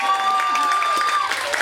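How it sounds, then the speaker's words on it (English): Audience at a comedy show in a theatre claps and cheers in a dense, continuous burst of applause, loud and close, with voices mixed into the crowd noise. "Can we clap for that?"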